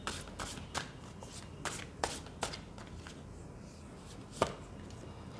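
Tarot cards being shuffled by hand in a quiet room: soft, irregular riffling and sharp slaps of the deck, fairly faint and close, with no talking over it.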